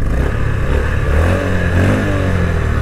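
A 2024 Honda CB350 motorcycle engine idles and revs close up, a steady loud mechanical drone rising and falling slightly in pitch, heard alone without talk.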